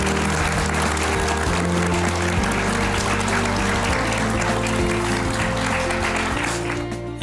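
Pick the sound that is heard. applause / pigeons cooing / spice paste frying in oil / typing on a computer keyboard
applause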